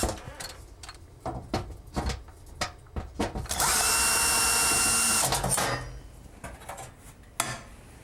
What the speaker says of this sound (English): What's holding the heating element into place are these two screws. So what I'm going to do is take these out